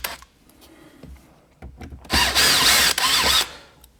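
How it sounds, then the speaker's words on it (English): A power drill backing out screws from a car radio during a Pioneer double-DIN install: faint clicks and handling noises, then a loud, close whirring burst of the drill lasting just over a second. "Let's get my drill and actually take the 4 screws out"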